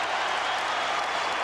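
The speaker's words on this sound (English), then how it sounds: "And listen to this crowd." A packed basketball arena crowd roars at an Iowa State versus Kansas college game in Hilton Coliseum, 2004, a dense, loud, continuous wall of cheering and applause.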